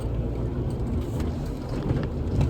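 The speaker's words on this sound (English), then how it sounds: "now just had to wait for a couple of cars to pass." Steady low rumble of traffic with cars driving past, a continuous road noise without voices.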